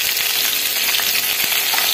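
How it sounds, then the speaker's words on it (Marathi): Green chillies and garlic frying in hot oil, a loud, dense, steady sizzle that fills the whole moment, with a couple of faint stirring knocks and no voices. "हिरवी मिरची छान फ्राय झाली"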